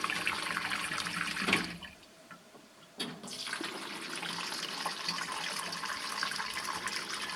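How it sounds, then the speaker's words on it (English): Tap water runs steadily into a sump, a constant rushing splash that cuts out for about a second before resuming just as strongly. "simply just running the water, and I tend to fill up the sump"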